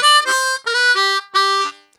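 A harmonica plays a short lick without bends: four sustained, reedy draw and blow notes in quick succession, loud and close with no talking.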